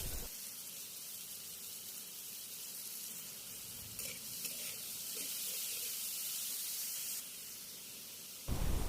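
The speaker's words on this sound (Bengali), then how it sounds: "একটি কড়াইয়ে পরিমাণ মতো তেল দিয়ে দেব পেঁয়াজ কুচি ও কাঁচামরিচ কুচি" Chopped onion and green chili hit hot oil in a wok for momo filling, giving a steady, dense hiss of sizzling that runs unbroken throughout and swells slightly toward the end.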